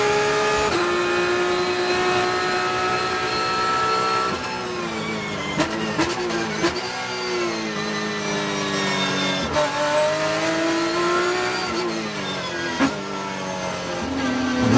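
Race cars lap the Mid Ohio track with steady, loud engine drone and rising and falling revs as they shift gears, several cars close together, with brief clicks and bumps.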